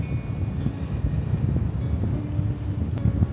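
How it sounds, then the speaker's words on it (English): Strong, gusty wind at Blackness Castle on an icy, exposed day, buffeting the microphone as a steady low rumble with small bursts, no talking. "It's very windy and it's Baltic."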